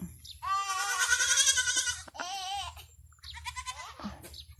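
Goats on a meat and dairy goat farm bleat loudly and close by, one long wavering call followed by two shorter cries, with a steady low rumble underneath.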